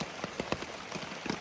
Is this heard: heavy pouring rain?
yes